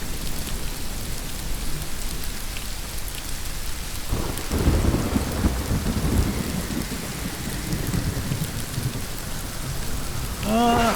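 A video game thunderstorm with steady rain hiss and a deep rolling thunder rumble midway, loud and continuous throughout.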